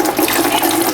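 Steady, loud stream of water running from a tap, with a bright hiss and splashing throughout, as a houseplant is watered indoors.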